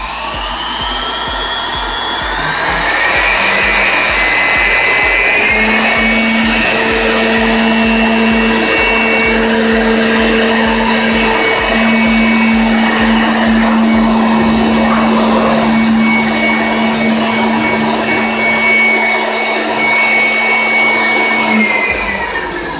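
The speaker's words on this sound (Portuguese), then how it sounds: "eu recomendo esse aspirador aqui" An SH70401-D electric air blower and vacuum runs continuously at its second speed setting, a loud, steady high-pitched motor whine with a tonal hum that starts up after a brief quieter moment and holds for about twenty seconds.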